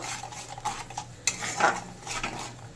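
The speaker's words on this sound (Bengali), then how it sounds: "এবার নেড়ে ভালোভাবে সব মিশিয়ে নেব" A spatula scrapes and clinks through salt, turmeric and Kashmiri chilli powder in a pan for a Bengali pabda fish curry, with light sizzling beneath a few quick metallic taps at close range.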